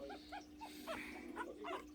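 A litter of Boston terrier puppies makes small growls and squeaky whimpers in short bursts, close by, with someone speaking softly among them.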